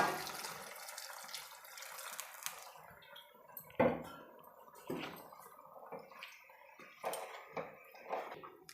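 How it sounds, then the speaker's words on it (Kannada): Water splashes and trickles into a pot of lentil and potato kurma, with intermittent clinks and knocks of cookware between the pours. "ನೀರು ಸೇರಿಸ್ಕೊಳ್ತಾ ಇದ್ದೀನಿ"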